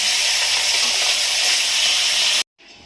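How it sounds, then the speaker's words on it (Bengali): Fish frying in a pan of hot oil for a sea chanda fish chorchori, a loud, dense, steady sizzle held close up that stops abruptly near the end. "বাকি মাছগুলো ভেজে নিচ্ছি"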